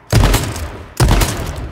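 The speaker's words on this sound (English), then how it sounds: "I'm pushing right now with this shotgun" Two loud shotgun blasts from H1Z1 gameplay, roughly a second apart, each a sharp boom with a lingering tail.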